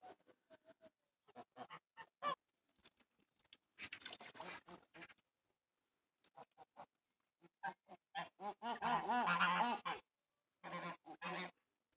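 Geese on a village pond on a misty early morning, honking in scattered bursts, with a louder, dense run of calls toward the end.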